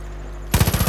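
Rapid automatic gunfire breaks out in Far Cry 5 after a brief quiet moment, a loud burst of about seven quick, evenly spaced shots.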